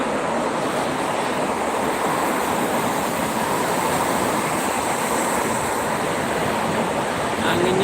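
Strong wind roaring steadily along the Jakarta–Cikampek toll road at KM57, a dense broadband rush that stays loud and unbroken from start to finish.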